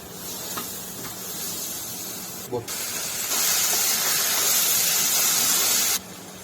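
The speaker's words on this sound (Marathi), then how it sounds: "मसाला 1-2 मिनिटं परतवून घ्यायचे" Spices for paneer bhurji sizzle in a hot pan, giving a continuous close hiss. The hiss grows louder and brighter midway through, then cuts off near the end.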